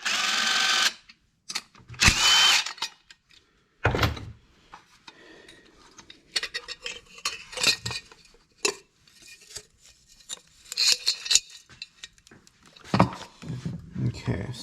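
Metal clicks and tool clatter as the muffler is unbolted from a Husqvarna 345 chainsaw that won't start, with short bursts of handling noise between pauses and a person talking throughout.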